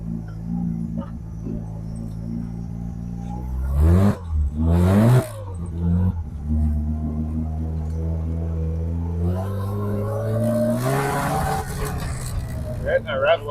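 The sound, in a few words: Mazda RX-7 engine revving to rev limiter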